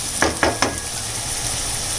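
Onions sautéing with salt in a pan for a broccoli egg thoran. Three quick stirring scrapes land over a steady sizzle, then the frying hiss continues alone.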